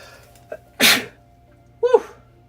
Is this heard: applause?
no